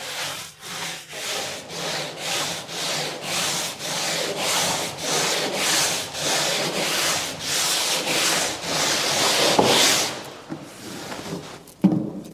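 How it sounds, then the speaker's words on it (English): A wooden cabinet being sanded with a medium grit abrasive sponge: close, rhythmic back-and-forth rasping strokes, about two per second for ten seconds, then a few scattered knocks and handling sounds, with no talking. "now I sand lightly with a medium grit abrasive sponge"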